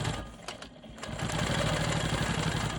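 A Quilt Maker Pro 20 quilting machine stitching smoky swirls, giving a steady, close mechanical whirr with a rapid needle rhythm that dips briefly early on, then runs on evenly with no talk.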